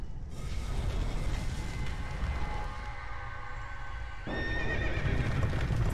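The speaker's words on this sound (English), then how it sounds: "The stock horse sound effect." A stock horse whinny in the Dark Souls 2 video game, one loud neigh with clip-clopping hooves and mechanical creaks around it, then a second sharp whinny near the end.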